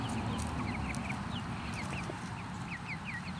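Chickens in a backyard flock give soft, scattered clucks and short calls over a steady background wash that sounds like rain, mid-distance and fairly faint.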